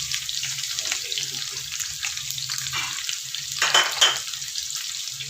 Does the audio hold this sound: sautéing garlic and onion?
yes